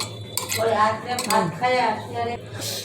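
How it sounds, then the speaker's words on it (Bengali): A metal spatula chopping cooked food into pieces in a pan, giving a few scraping, clinking strokes against the metal, with a voice speaking alongside. "চাকুতে না কেটে খুন্তাতেই কেটে নিচ্ছি"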